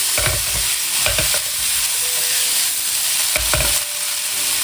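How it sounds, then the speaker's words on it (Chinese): Stir-frying pork with scallion and garlic over low heat: a steady sizzle with repeated scraping strokes of a spatula against the wok, no voices. "小火煸炒，让葱蒜香充分融进肉里，炒出香味以后就可以出锅了"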